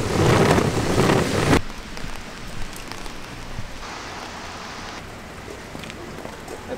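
Rain falls outdoors in Sapporo as a steady hiss that is loud at first, then drops to a softer, more distant wash of rain.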